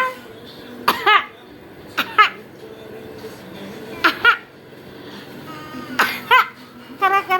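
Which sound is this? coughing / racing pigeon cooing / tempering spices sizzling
coughing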